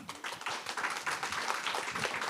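An audience at a panel session breaks into applause to welcome the panelists: a brief burst of dense, moderately loud clapping with no voices.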